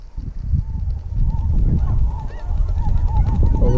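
Snow geese honk repeatedly overhead during a hunt at a pasture pond, a steady chorus of overlapping calls that stays loud for the whole stretch.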